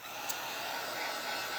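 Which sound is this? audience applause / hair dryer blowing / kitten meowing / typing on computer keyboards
hair dryer blowing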